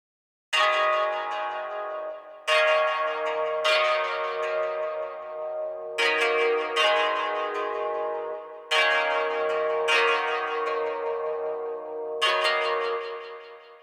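A sampled bell-like melody loop made in FL Studio, built to resemble an original guitar riff, with bright struck notes in a steady repeating pattern, each decaying before the next, and no voices.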